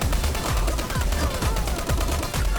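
Rapid gunfire from Dirty Bomb, an online multiplayer shooter, rattles steadily and loudly across the whole moment, with dense repeated shots close up and faint voices underneath.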